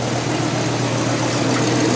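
A Holden HQ car engine idles steadily just under 1,000 RPM with a low, even rumble throughout, with no talking.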